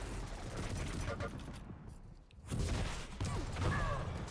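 Shotgun blasts ring out during a Quake Pro League match, with several sharp bursts in the first half, a brief quiet gap, and more shots, pickups and game effects after it, all under a commentator's voice.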